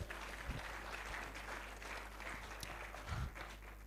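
Applause for the chair at an anniversary celebration and biennial general meeting of a chapter in Abuja, fairly faint scattered clapping over a low steady hum, with a few louder bumps.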